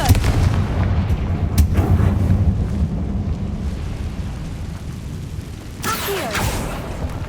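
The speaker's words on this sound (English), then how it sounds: "Confringo!" Confringo fire-spell explosions in Hogwarts Legacy rumble as a heavy, continuous roar of booming blasts, with a sharp whooshing burst near the end.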